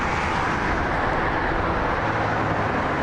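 Heavy road traffic roars steadily near a flyover in Dubai, a dense, broadband wash of passing vehicles that stays loud and unbroken throughout, with no voices.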